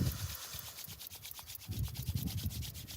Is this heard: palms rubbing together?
yes